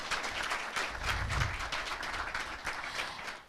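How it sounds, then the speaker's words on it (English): An audience at a formal event in Atlanta honouring Ghana's president gives another round of applause, a dense, even patter of many clapping hands heard from a middle distance with no speech. "another round of applause for His Excellency"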